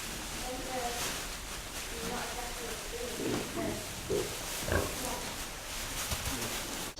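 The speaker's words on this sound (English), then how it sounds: "Gilts are pigs that haven't actually had a litter yet." Pigs grunting on a pig farm among young gilts and a boar, scattered low grunts over a steady noisy background, with people talking nearby.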